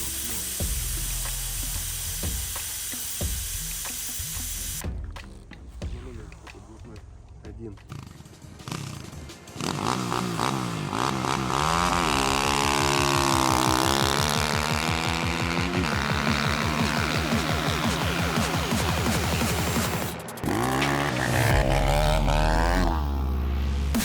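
A cheap Chinese enduro motorcycle revs hard and pulls away on lowered tyre pressure, its engine note rising and roaring loudly and steadily for several seconds after a quieter start, with voices heard briefly.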